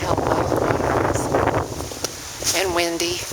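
Wind rushes and buffets the microphone outdoors by low water at Caesar Creek Park, a steady gusty roar, with a brief voice near the end.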